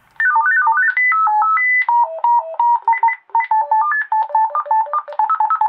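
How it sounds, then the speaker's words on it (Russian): A Retevis RT649P waterproof PMR two-way radio cycles through its alert tone options, playing clear, continuous electronic melodic beeps that step up and down in pitch, loud and close with no talk. "После следующего нажатия кнопки меню у нас происходит выбор типа звукового сигнала."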